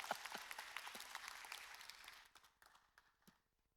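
A church congregation breaks into dense, bright applause that thins out into scattered claps after a couple of seconds, heard fairly quietly.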